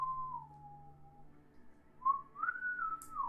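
A person whistles a few slow, wavering notes of the X-Files theme, a sustained tone that slides down, pauses, then rises again, fairly close in a quiet room.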